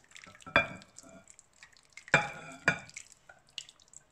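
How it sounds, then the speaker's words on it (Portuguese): Sauce poured and stirred into a potato gratin in a home kitchen, quiet wet splatting and scraping with three sharper stirring strokes amid soft clinks, close and faint. "Agora eu vou colocar o molho"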